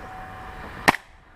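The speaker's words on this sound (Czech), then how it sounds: "abych jenom čuměl na tu zbraň, jak střílí krásně" An airsoft Kar 98 bolt-action rifle fires a single sharp, loud crack outdoors, followed by a faint brief echo and a quiet background.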